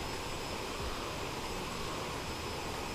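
Cockpit of a CRJ 700 in Microsoft Flight Simulator, filled with a steady broadband rush of wind and airflow over a low engine drone, constant and even with no talking.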